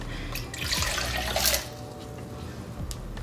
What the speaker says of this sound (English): We put the water through all the PON and kind of got out the dust.